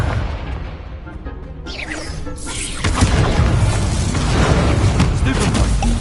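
Incendio and Accio spells are cast in Hogwarts Legacy, producing fiery whooshes and a deep booming burst that swells into a sustained roaring crash, with game music and effects layered throughout.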